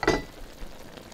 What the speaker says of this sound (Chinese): 油热以后啊，咱把生蚝啊煎一下